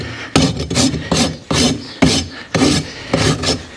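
A farrier's steel rasp files a Suffolk Punch stallion's hoof in strong, rough strokes, about seven loud scraping passes in a steady back-and-forth rhythm, close up and with no talking.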